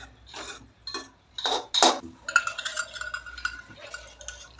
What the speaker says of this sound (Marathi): कणिक भाजून घेते आहे मी.